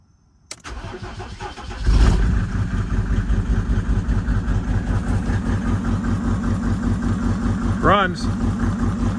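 A 1996 Mercedes-Benz G300 G-Wagon with an OM606 diesel cranks briefly, catches and settles into a loud, even, clattering idle close by, with a voice speaking briefly over it.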